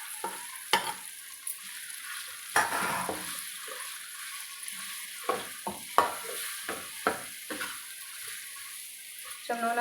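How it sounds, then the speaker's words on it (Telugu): Korameenu fish pieces fry in oil with a soft, continuous sizzle, broken by repeated clinks and scrapes of stirring and utensils against the pan. "కొంచెం నూనెలో ఫ్రై అయితే"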